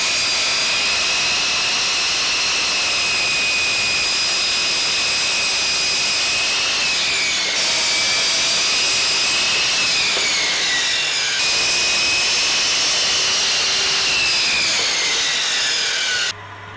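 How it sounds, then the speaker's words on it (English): A power saw cuts oak boards roughly to size, giving a loud, continuous high whine that holds steady and shifts pitch slightly as the blade loads through the hardwood, close up with no voices. "I start by roughly cutting the oak to size."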